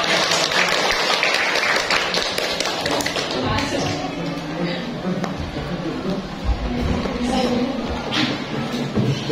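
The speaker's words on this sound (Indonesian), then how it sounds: "tepuk tangan buat kelompok" Audience applause for a student group after their classroom presentation: steady broadband clapping spread across the whole stretch, with voices talking underneath.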